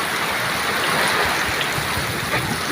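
Rushing floodwater during the strongest flood a village has seen, a dense, steady roar of churning water with no breaks, loud and close, with no voices heard.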